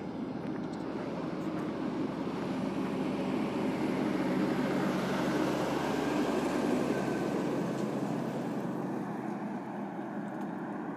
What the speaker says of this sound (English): Here comes a bit of a road train.